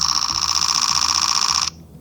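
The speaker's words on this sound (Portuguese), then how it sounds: "E esse aqui é o som do obturador eletrônico a 30 fotos por segundo." A Canon R7 fires an electronic shutter burst at 30 photos per second. It sounds like a steady, high, buzzing tone, loud and close, that holds for under two seconds and then cuts off sharply.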